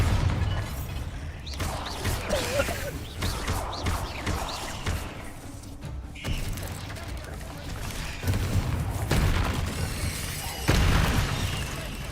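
Deep booming blasts of the Bombarda explosion spell in Hogwarts Legacy go off repeatedly amid combat noise, with a player talking between the impacts.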